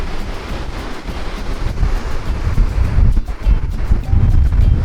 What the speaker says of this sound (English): Some pretty big waves out here today. The water crashing up on the rocks over here.